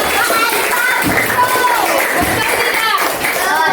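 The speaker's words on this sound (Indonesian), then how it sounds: "Kasih tepuk tangan untuk Ega." Elementary school classroom applause for a student after a presentation, uneven clapping from children mixed with chatter and voices throughout.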